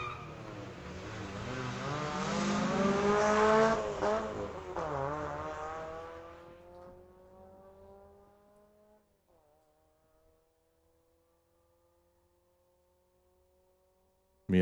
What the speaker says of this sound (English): Miata's going through the top end.